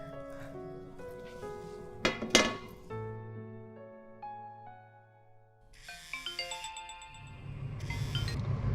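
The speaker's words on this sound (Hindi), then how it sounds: "अरे सन्ना का फ़ोन?" A mobile phone rings inside a home with a melodic electronic tone that runs for several seconds. Clinking dishes and household clatter sit underneath it, and the ringing continues over a louder, fuller background near the end.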